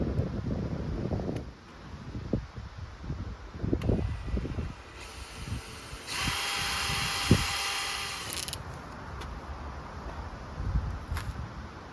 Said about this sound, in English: We're using 7/64 drill bit, a little smaller than the screw.